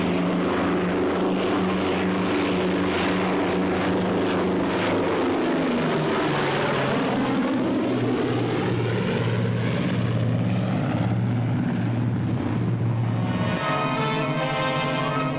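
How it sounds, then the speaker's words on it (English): Propeller fighter planes fly back toward an aircraft carrier, their engines droning loudly and steadily, with the pitch sweeping down as they pass close by, heard on an old 16mm film soundtrack. "fighter planes return to the carrier to refuel, rearm, and stand by to repel any new attack from the sky"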